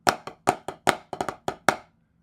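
Snare drum flam taps from a rudimental snare solo, played slowly as evenly spaced pairs of crisp strikes, a grace note just ahead of each main stroke, close and dry with no voices.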